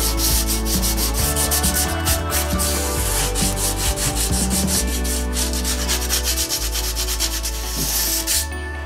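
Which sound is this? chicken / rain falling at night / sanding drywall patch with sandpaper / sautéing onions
sanding drywall patch with sandpaper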